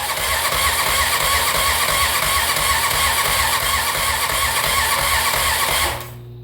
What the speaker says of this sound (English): I'm going to apply power to the starter relay on the left side.